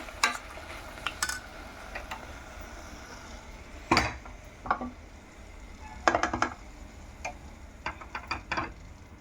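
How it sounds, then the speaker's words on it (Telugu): Mustard seeds and spices tempering in hot oil for a Konaseema-style gongura dried prawn curry, with sharp scattered pops and crackles over a faint steady sizzle, a few louder bursts close by. "ఇప్పుడు దీన్ని తాలింపు పెట్టుకున్నాం"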